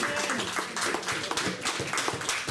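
A church congregation claps and applauds during a service, dense steady clapping from many hands filling the room, with a voice faintly underneath.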